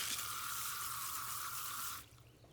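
Tumbled brass rinsed under running water after burnishing, a steady close splashing flow with a faint low hum beneath that cuts off abruptly near the end.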